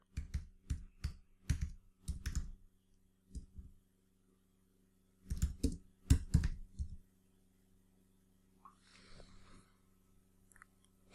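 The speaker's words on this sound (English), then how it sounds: "Let's type in 15th day." Typing on a computer keyboard, bursts of close clicking keystrokes in short clusters separated by pauses, over a low steady hum, then faint soft rustling.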